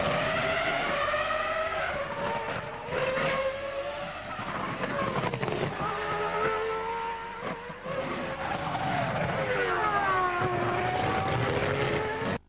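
Onboard a Formula 1 car during Saturday morning practice at the 2002 Canadian Grand Prix, the engine screams loudly and continuously, its pitch rising through each gear and dropping sharply under braking for corners, with no voices over it.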